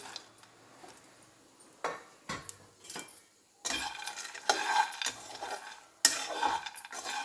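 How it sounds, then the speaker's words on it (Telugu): Pistachios roast dry in a pan for dry fruit laddu, heard as a series of scraping stirs and light rattling clinks of the nuts and spoon against the metal, growing busier toward the end. "పిస్తా వేయించుకుందాం."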